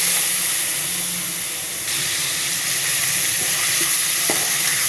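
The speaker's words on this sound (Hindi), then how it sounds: "चिकन तकरीबन भून चुका।" Chicken sizzles and fries in a pot while being cooked for pulao, a loud steady hiss of hot oil with a few faint clinks of stirring and no talk.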